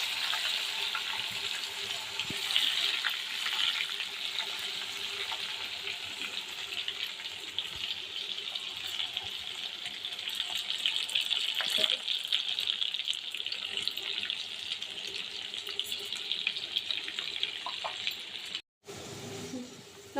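Corn frying in hot oil for a crispy snack, a steady dense sizzle and hiss that runs unbroken for about twenty seconds, close and fairly loud, with a brief cut near the end.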